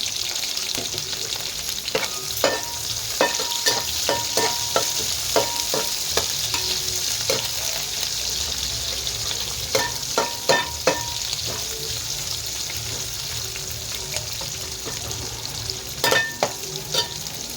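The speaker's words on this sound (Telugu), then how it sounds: "అలా ఫ్రై అయిన తర్వాత కరివేపాకు, మనం ముందుగా కట్ చేసి పెట్టుకున్న ఉల్లిపాయ, పచ్చిమిర్చి వేసుకోవాలన్నమాట." Curry leaves, chopped onion and green chilies sizzle steadily in hot oil for a chicken biryani base, with a constant frying hiss broken by scattered pops and crackles and occasional stirring clatter, close and continuous with no talk.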